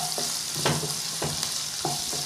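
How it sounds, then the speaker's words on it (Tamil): Tomatoes and onions sautéing in oil for a mixed vegetable gravy, a steady close sizzle with a few soft scrapes of stirring every half second or so. "நல்லா எண்ணெயிலே வதங்கிட்டுங்க."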